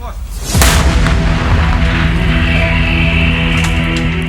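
An M777 howitzer fires a single loud, close boom, followed by a long rumbling roll and echo across open fields.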